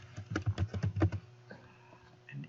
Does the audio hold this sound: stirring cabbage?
no